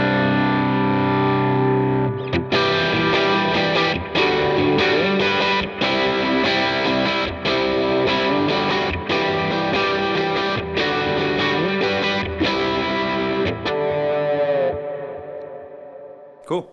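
Electric guitar through a Line 6 HX Stomp with the Morning Glory overdrive set to light drive: loud, continuous chords and riffs with mild grit and a rhythmic strummed pulse, ringing out and fading at the end.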